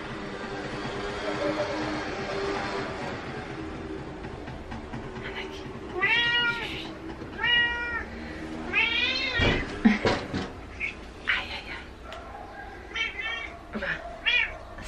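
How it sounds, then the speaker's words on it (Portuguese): A house cat meowing repeatedly nearby, several drawn-out, rising meows spaced irregularly over a low background hum, with a person speaking to it now and then. "Leo, se tu continuares a miar, eu não vou conseguir falar"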